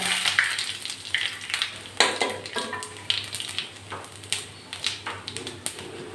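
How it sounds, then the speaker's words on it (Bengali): Panch phoron and two bay leaves hit hot oil in a kadai for a vegetarian bori curry, crackling and spitting in quick irregular pops over a constant close sizzle, with no talk. "প্রথমে আমি একটু পাঁচফোড়ন ফোড়ন দিচ্ছি আর দিয়ে দিচ্ছি দুটো তেজপাতা"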